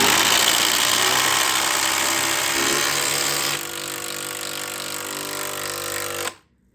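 Two battery-powered drills race to drive screws into countersunk pilot holes of equal depth, a loud continuous whirring buzz that drops in pitch partway through as one finishes, then cuts off abruptly near the end.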